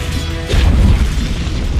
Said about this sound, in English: Dire's bottom tower has fallen.